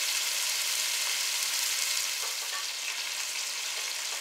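Pot roast meat sears in a hot pan with a steady, loud hissing sizzle that holds even throughout, close up and with no talking.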